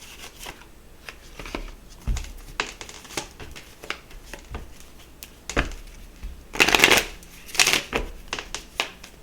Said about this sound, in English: Let's get some past life oracle. Let's see if we can get just a couple of cards out here.